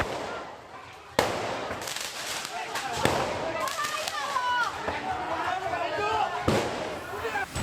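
Firecrackers go off during a street brawl between two groups on railway tracks in Menteng, Central Jakarta, with several sharp cracks over a noisy crowd and shouting voices.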